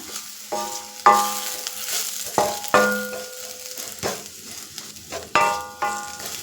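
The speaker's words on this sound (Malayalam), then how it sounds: "ഇതൊന്ന് നല്ലവണ്ണം ഇളക്കി ഈ പച്ചമണമൊക്കെ മാറുന്നത് വരെ ഒന്ന് ഇളക്കി കൊടുക്കാം" Masala with coriander powder being stirred in a pan for a yam curry, giving soft scraping strokes over a light sizzle, with a few sharper spoon knocks against the metal.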